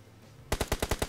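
Rapid automatic gunfire in the mobile battle-royale game PUBG Mobile: a short burst of about six evenly spaced, sharp shots, loud and close, following a moment of quiet background noise.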